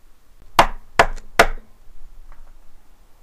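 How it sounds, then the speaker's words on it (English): Three sharp knocks on a bedroom door, spaced about half a second apart, close and fairly loud against a quiet room. "Except for the knocking on her door."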